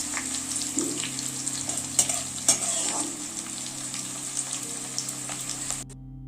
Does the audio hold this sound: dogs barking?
no